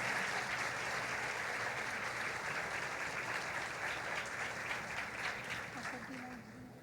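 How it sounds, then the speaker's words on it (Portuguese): A gathered audience claps steadily in a sustained round of applause, moderately distant and fairly quiet, with a voice briefly heard near the end. "Vamos aplaudir a Deus pela vida delas?"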